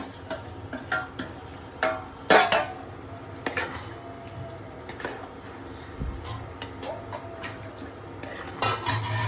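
Dal poured into cooked masala in a pan for dal makhani, then stirred with a spoon clinking and scraping against the metal in irregular bursts, with a faint sizzle between strokes and no talking.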